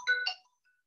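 A mobile phone ringtone announcing an incoming call cuts in during a lecture: a short, bright melodic chime of a few notes, close and clear, then quiet.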